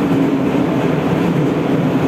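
Moscow metro train car in motion, a steady loud rumble with a low hum and rolling wheel noise throughout, no voices.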